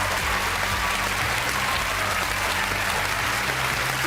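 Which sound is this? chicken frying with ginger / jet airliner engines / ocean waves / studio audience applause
studio audience applause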